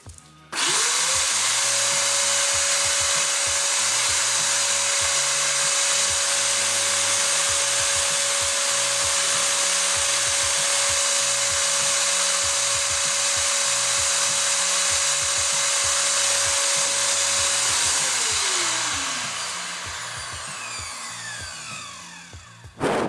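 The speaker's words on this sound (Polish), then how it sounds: "zobaczymy, czy odkurzacz da radę go pchnąć, znaczy się tą hulajnogę" A Kärcher WD3 wet-and-dry vacuum cleaner runs in blowing mode, pushing a scooter. It gives a loud, steady whine and rushing air for about eighteen seconds, then spins down.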